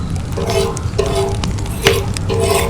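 Oil poured onto a hot tawa for frying marinated fish in a village kitchen in Mandya, giving a loud sizzle and crackle, with a few scraping and tapping sounds of a utensil on the pan.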